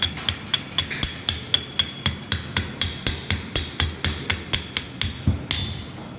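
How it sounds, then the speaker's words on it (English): A chipping hammer knocks spatter off an electric arc butt weld in a fast, steady run of about twenty sharp metallic taps, close and bright, with no talking. "Now using the chipping hammer to remove the spatters."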